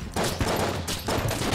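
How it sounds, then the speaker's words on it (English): Heavy gunfire from sticky explosive rounds in the video game Enter the Gungeon, a dense run of blasts and bursts in two loud waves with a brief break between them. "It sticks them. And then it blows up."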